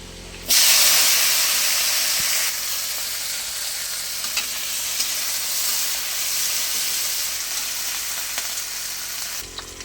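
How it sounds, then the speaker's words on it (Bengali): Sliced okra fries in hot oil with a loud, steady sizzle that jumps in as it hits the pan, then settles into a continuous bubbling hiss with occasional small pops and stirring sounds, no talking. "এবারে এই কেটে রাখা ভেন্ডিগুলো আমি কিন্তু তেলে ভালো করে ভেজে নেব।"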